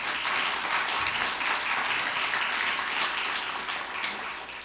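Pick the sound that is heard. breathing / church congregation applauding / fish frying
church congregation applauding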